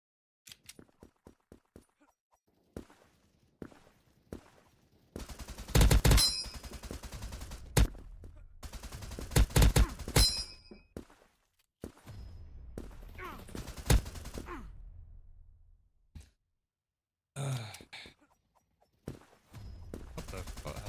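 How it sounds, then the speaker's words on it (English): Bursts of FAMAS rifle fire in the Krunker shooter game, several loud, dense volleys separated by quieter gaps, with short sharp shots opening the sequence. "Took the FAMAS, bro, Cha-Cha"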